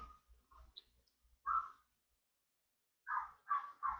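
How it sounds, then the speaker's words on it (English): Several dogs bark indoors, in short sharp bursts: a few scattered yips at first, then a loud bark, a pause, and a quick run of three barks close by. "sorry, the dogs are barking."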